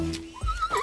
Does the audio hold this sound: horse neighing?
yes